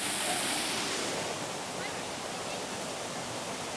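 A waterfall feature at a mini golf course hole gives off a continuous, even rush of falling water, steady and close, with no voices.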